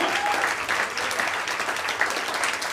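A comedy club crowd claps for the next comic coming on stage, producing a loud, continuous, even burst of applause that fills the room from start to finish.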